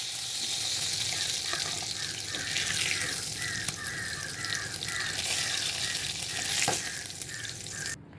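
Fish fillets frying in hot oil in a pan, giving a steady loud sizzle throughout with a faint repeating chime in the background; the sound cuts off abruptly at the end.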